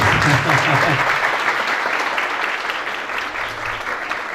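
A live café audience claps steadily during a music show broadcast, the applause dense and even throughout with some murmuring voices beneath it.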